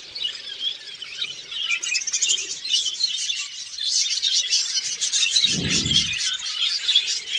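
Budgerigars at a large breeding farm chirp and twitter continuously in a dense overlapping chorus, with a brief low thump partway through.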